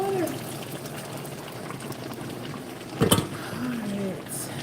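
A pot of water boils on a kitchen stove with a soft, continuous bubbling, and a brief louder burst of activity partway through.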